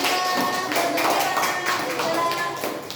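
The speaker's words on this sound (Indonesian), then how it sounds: "Tepuk tangan ya buat kelompok 3" A classroom of students claps for a group after its answer, a brisk, fairly close patter of many hands with voices mixed in underneath.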